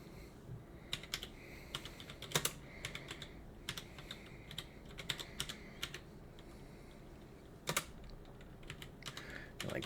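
Slow, irregular typing on a computer keyboard, with sparse soft key clicks spaced by pauses over a quiet room background.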